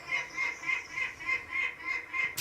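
Ducks quacking in a regular, rapid series of nasal calls, about eight evenly spaced quacks, close and clear with no talk over them.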